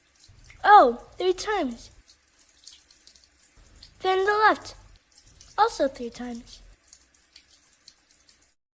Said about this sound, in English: you wash your right arm up to your elbow 3 times